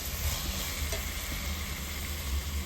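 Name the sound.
stirring sautéed tomatoes for chicken curry in a pan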